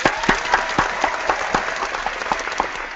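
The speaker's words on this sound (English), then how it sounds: "I want to give a big round of applause" An audience gives a round of applause at an eco-friendly organizing talk, with steady, close clapping from a modest crowd throughout.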